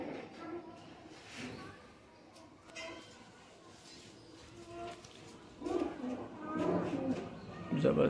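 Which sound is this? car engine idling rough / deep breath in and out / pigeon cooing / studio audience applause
pigeon cooing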